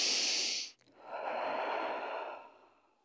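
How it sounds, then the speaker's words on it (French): Deep breathing during a lower-back exercise session: a long, airy exhale, a brief pause, then a slow, full breath drawn in close to the microphone that gradually fades out. "Encore une grande respiration."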